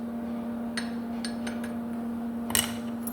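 A coconut-shell ladle knocks and clinks against a pot of homemade soup while stirring, producing a few sharp, sparse taps over a steady low hum.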